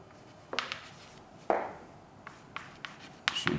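A maths equation is handwritten in a few short scratching strokes with small gaps between them. The strokes are close and soft, with no talking.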